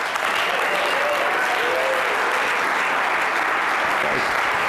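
A forum audience applauds steadily to welcome John Simson, with dense, even clapping filling a large room throughout.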